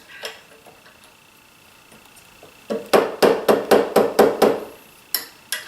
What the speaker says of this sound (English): I'm just going to use my transfer punch here to get a couple marks.